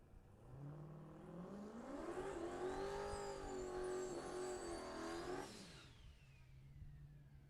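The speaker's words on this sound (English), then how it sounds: "just breaking in the tires for that rear engine Dragster, doing a burnout about 250 feet in length and coasting it through the top end of the track" A rear-engine dragster on a new 2021 Spitzer chassis makes a tire break-in burnout pass at a drag strip. The engine note climbs and roars loudly for several seconds, then drops away as the car coasts off, with no talk over it.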